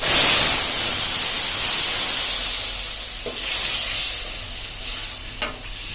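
Thin Bengali snail curry with pointed gourd poured into hot oil tempered with panch phoron and cumin, a loud continuous hiss and sizzle that slowly eases off over a few seconds, with no voice.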